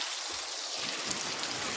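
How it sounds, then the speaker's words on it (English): Steady storm rain hissing down on surfaces in the Coachella Valley, a dense, even patter with a faint low rumble beneath, continuous and fairly close. "Stormy weather here to Coachella Valley Monday night brought rain"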